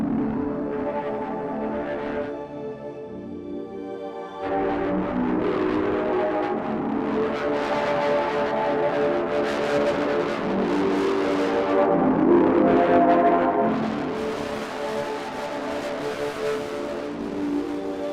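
Synth sound run through a crunchy, crumbling distortion effect that gives it a decaying character: a dense, gritty sustained texture with shifting harmonics, steady and fairly loud, with no voices.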